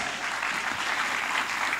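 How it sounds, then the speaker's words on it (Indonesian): A church congregation applauds during an online worship service, a steady, dense wash of many hands clapping together at close range, filling the space evenly with no voices standing out. "Berikan tepuk tangan yang lebih pantas"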